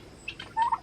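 Olive egger rooster crowing, a single short call with a rising and falling pitch, fairly clear and close, with other barnyard fowl among chickens and ducklings.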